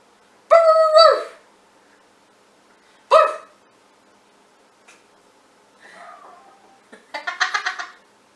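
A dog barks outdoors a few times, one strong harmonic bark near the start and another around three seconds, followed by a softer yelp and a final rough burst, each standing apart with quiet gaps in a home kitchen setting.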